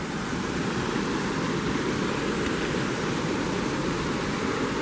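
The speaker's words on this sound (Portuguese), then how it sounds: "Ó o filetinho d'água correndo." Water runs through a culvert called the Muzambo drain beside the dry lakebed of Lake Furnas, a steady, loud rushing wash with no break and no voices.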